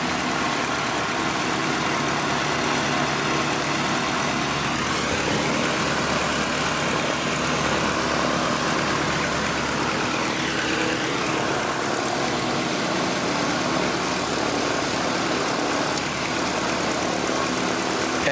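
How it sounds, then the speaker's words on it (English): A C-17 military transport aircraft warms up its engines at Christchurch Airport, New Zealand, in wet conditions, producing a loud, steady jet roar and whine that holds unbroken throughout. "that plane has taken longer than my old HK Holden to warm up"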